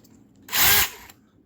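A power drill whirs up briefly, spinning loudly for about half a second before winding down, up close and alone.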